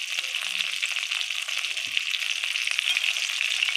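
Chicken pakoras fry steadily in hot oil with a constant bright sizzle and crackle, close up, with no voices.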